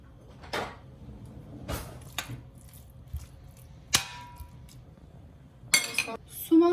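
Sparse clinks and scrapes of utensils against a metal pot as meat is put in, a few sharp knocks spaced apart, quiet and close in a calm kitchen.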